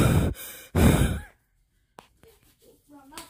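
A person takes two loud, close breaths, a deep sigh-like exhale and then a strong inhale, followed by near silence with faint small rustles and soft breathing sounds.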